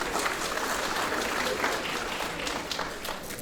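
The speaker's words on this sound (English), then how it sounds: "Let's give Mr. Soto another round of applause" Steady applause from a graduation ceremony audience, many hands clapping in a continuous, even roar that stays full and close for the whole stretch without clear speech.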